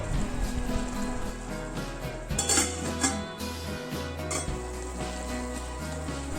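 A ridge gourd and peanut kulambu is stirred in a pot over a low flame, giving a steady gentle sizzle and bubbling with a few scraping clinks of a spoon against metal, close and without talk.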